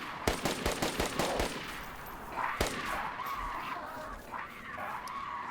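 Gunfire in the DayZ video game opens with a rapid burst of about seven close, sharp shots, then one more crack, followed by a lower droning engine-like hum.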